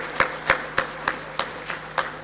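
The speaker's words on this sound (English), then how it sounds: "Please join me in giving her a big round of applause, Mrs. T. Muguti." Steady, evenly spaced hand claps, about three per second, as an audience at the Zimbabwe China Investment Symposium applauds a speaker walking to the stage, heard alone and moderately close.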